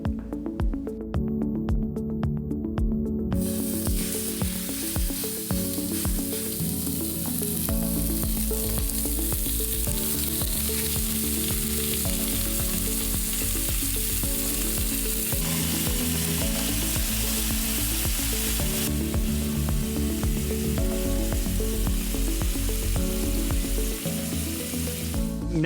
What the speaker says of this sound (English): After we get a hard sear on the steaks